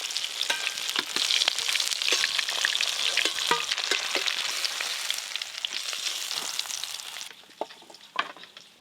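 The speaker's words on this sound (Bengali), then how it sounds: "ইলিশ মাছগুলো ভালো করে ভেজে নিলাম" Hilsa fish pieces fry in oil with a loud, dense, crackling sizzle close up that drops away near the end, leaving a few sparse pops and a utensil knock.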